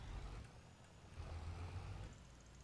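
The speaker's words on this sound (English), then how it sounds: "Park the truck in the old barn." A truck in a farming video game pulls into an old barn to park, giving a faint, steady low engine rumble that swells slightly midway, with a soft hiss above it.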